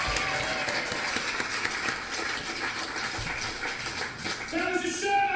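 Audience applause at a live comedy show, a dense wash of many hands clapping steadily throughout, with faint crowd noise mixed in.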